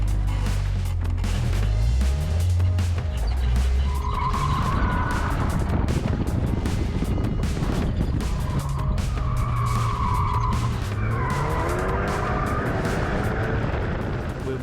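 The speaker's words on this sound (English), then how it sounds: "drifting around there" A car drifting at the Red Bull Ring, loud and close: the engine roars and revs up and down continuously while the tires squeal long and high as the car slides through the corners.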